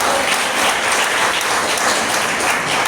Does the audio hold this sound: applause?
yes